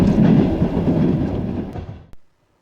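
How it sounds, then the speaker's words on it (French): Trans-Siberian train running along the shore of Lake Baikal at dawn, a loud steady rumble with rail clatter that stays strong and then cuts off abruptly near the end. "notre transsibérien circule sur la rive du lac Baïkal"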